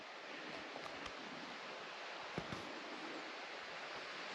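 A creek flows at night beside a remote mountain cabin, a faint, steady wash of running water with soft rustling and no voices, heard from a distance.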